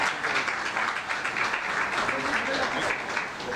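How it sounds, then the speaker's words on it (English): An audience at a peace award ceremony gives award recipients a full round of applause, a dense, even roar of many hands that holds steady throughout, with a faint murmur of voices mixed in. "I kindly request everyone to please have a grand applaud for all of them"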